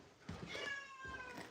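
A house cat gives a single drawn-out meow, close and clear, rising then fading, while electrical repair work goes on around it, with a short bump of noise at the end.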